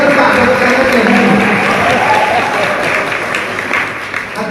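Audience applause fills a lecture hall during an Islamic lecture at a university anniversary celebration, a dense, steady clapping that stays loud throughout and tapers slightly toward the end.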